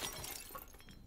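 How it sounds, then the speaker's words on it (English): Objects being smashed in the survival horror game Resident Evil Village, a quick run of breaking and shattering crashes, close and fairly loud, with no talk over them. "I bet you they love the fact I'm going around smashing everything up."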